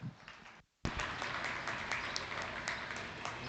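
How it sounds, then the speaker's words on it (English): Applause breaks out from the crowd at a junior steer show ring at the Kentucky Beef Expo, steady moderate clapping after a short pause, somewhat distant and continuing throughout. "Let's give her a big round of applause as well."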